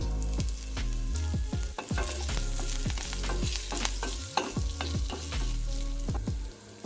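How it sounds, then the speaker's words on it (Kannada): Curry leaves hit the hot oil of a tempering for rice sooji upma, setting off a loud, busy sizzle with rapid popping crackles close up and no talk. "ಒಗ್ಗರಣೆ ರೆಡಿಯಾಗಿದೆ ಇದಕ್ಕೆ ಇವಾಗ ನಾನು ಕರಿಬೇವನ್ನ ಹಾಕ್ತಾಯಿದ್ದೀನಿ"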